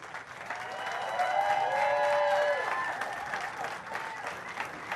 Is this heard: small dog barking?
no